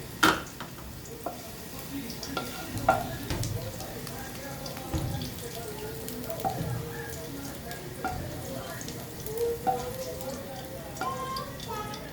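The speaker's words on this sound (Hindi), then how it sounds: "शिमला मिर्च भी फ्राई हो चुकी है।" Capsicum stir-frying in a pan for restaurant-style vegetable fried rice; a light crackling sizzle with intermittent scraping and tossing sounds from a utensil, moderately close and fairly quiet.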